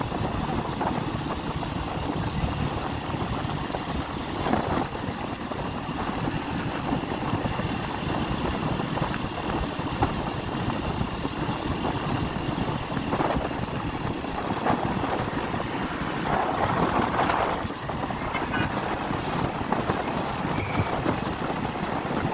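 Motorbike engine on a ride from Feni to Lakshmipur market, a steady continuous drone with road and wind noise running unbroken throughout, fairly loud and close.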